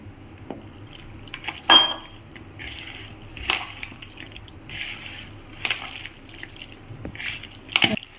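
Water trickles into onion pakoda batter in a kitchen, with wet mixing squelches and several sharp clinks of utensil against bowl.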